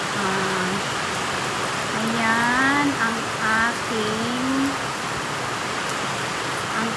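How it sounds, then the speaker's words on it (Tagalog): Heavy, constant rain in Taiwan roaring in the background while a person talks over it in short phrases. "napakalakas po ng ulan"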